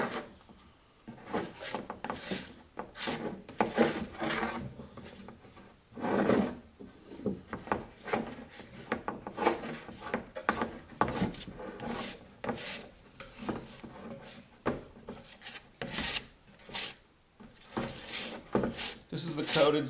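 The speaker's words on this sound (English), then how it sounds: "I'm scraping it off the one side and applying it to the other." Repeated scraping and rubbing strokes as fiberglass resin is scraped off and spread across plywood in a cockpit build, irregular close scuffs and swipes over about twenty seconds, fairly quiet, with a voice talking in places.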